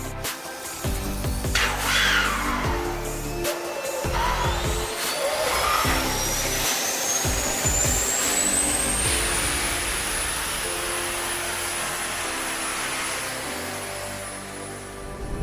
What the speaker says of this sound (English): Once the pilot is in the seat, he's going to fire off the APU.